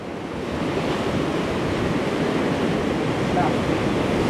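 Ocean waves wash steadily in broad, continuous surf noise with wind buffeting the microphone, heard from a boat on a day when the sea is not very rough; no talk.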